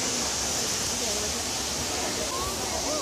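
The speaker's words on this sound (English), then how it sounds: "We are on top of the waterfall and there is a view halfway." Waterfall in Singapore, heard from the top as a steady broadband rush of falling water. Continuous and fairly faint, with no clear talk above it.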